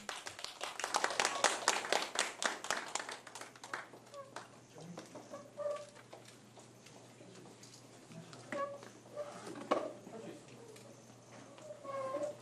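Applause at a politician's emergency press conference: dense clapping fills the first few seconds, then thins and fades as voices and room noise take over.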